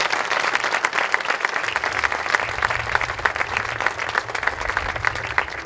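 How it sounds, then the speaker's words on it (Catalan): An audience applauds at a regional pubillatge ceremony in Vidreres, a full, sustained round of clapping with a low background hum underneath. "Un fort aplaudiment, sisplau."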